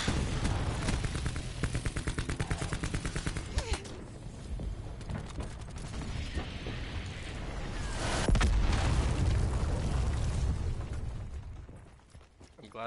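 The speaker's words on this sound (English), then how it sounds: "I'm glad to know that that was your cluster grenade." A cluster grenade detonates in a sci-fi shooter video game, a loud heavy blast over continuous game gunfire and rumble, with a second swelling explosion midway before the noise fades.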